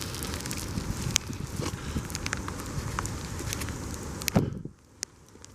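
Rain falls outdoors as a steady, close crackling patter with some wind rumble and occasional sharper taps, then cuts off abruptly near the end.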